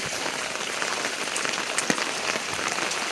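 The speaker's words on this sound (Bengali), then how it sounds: "প্রচণ্ড বৃষ্টি যে পানিতে পুরো রাস্তায় আঠমান পানি" Heavy rain pours down on a flooded street in Bangladesh, a dense, steady hiss of drops hitting water and surfaces that lasts throughout with no break.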